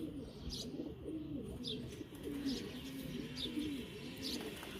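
Pigeons coo in a steady run of low, repeated throaty calls, with a few faint higher chirps above them and no talking.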